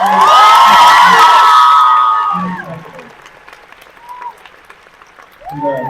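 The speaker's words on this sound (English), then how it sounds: "Give a round of applause for you" A crowd at a Percy Jackson and the Olympians convention panel bursts into applause and cheers, loud at first with shouts and whoops from the audience, then fading while a presenter's amplified voice carries over it.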